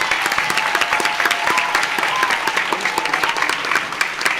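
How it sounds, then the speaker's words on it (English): An audience at a World Festival Week music program in Cabella, Italy, applauds young performers after two songs, with close, lively, evenly sustained clapping throughout. "So a round of applause."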